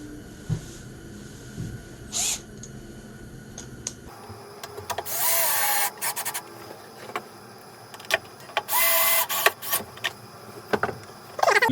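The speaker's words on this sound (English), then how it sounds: "when I use the drill to put the screws back on, I don't tighten them all the way" A cordless drill drives screws back into the housing of a Stihl BR 600 backpack leaf blower during a tune-up, with two short whirring bursts near the start and longer, louder runs later, separated by handling clatter.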